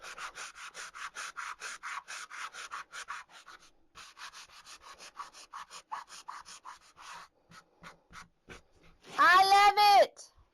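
Wood on a handmade wooden door hanger is distressed with quick, rhythmic rubbing and sanding strokes, steady and close for several seconds, then a brief high squeaky, voice-like sound at the end.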